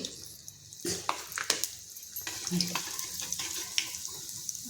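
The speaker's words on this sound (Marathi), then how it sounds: "जिरं बी तड तडले आहेत" Cumin seeds crackle in hot oil, with irregular sharp pops over a close, steady sizzle.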